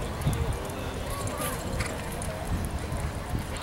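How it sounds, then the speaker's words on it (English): Horse galloping in a barrel racing run, its hoofbeats thudding under a busy arena announcer and crowd noise, brief and partly masked. "On his little horse CCN Corona"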